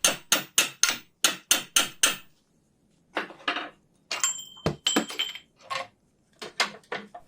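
Hammer blows persuading a binding spring compressor off a Triumph TR7 front strut top: a run of sharp, regular metallic strikes, a pause, then more irregular clanking hits, close and loud.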